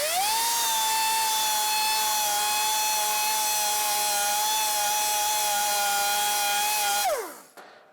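A rotary tool spinning an abrasive bit grinds and reams the inside of a punctured tire hole before a patch plug goes in, a loud steady high-pitched whine held for about seven seconds, then winding down to a stop.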